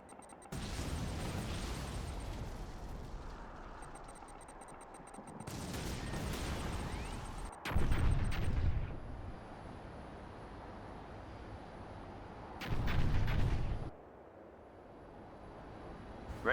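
Artillery barrage in the real-time strategy game Command & Conquer 3, with heavy booming bursts repeating at intervals, each lasting a second or two, loud over a steady background rumble.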